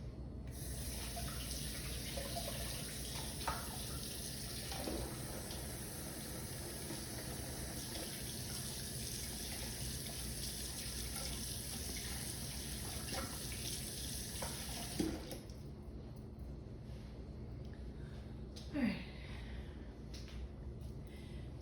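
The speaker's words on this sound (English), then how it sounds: "All right, let me wash my hands." Water running steadily from a kitchen tap during hand washing, a continuous close hiss and splash for about fifteen seconds, then a fainter flow with brief knocks and handling noises.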